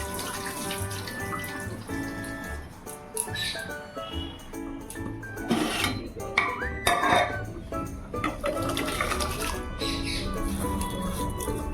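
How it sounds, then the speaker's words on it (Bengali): Water swishes and splashes in a metal pot as grains are rinsed, with clanks of the vessel and a running tap, close up with no talking. "এই যে জল দিয়ে দিয়েছি উনুনে হাঁড়ির মধ্যে, তো এখন চাল ধুয়ে দিয়ে দেবো।"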